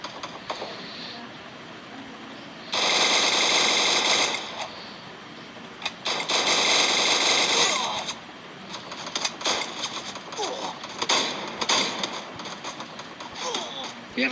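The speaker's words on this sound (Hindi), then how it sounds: "कौन चला रहा है गोली?" Gunfire in the mobile battle royale game Free Fire comes in two long bursts of rapid shots followed by scattered clicks and shots, loud and close, with a player speaking at times.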